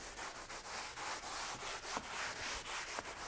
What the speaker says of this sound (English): Now we're going to clean all the hard surfaces and the leather.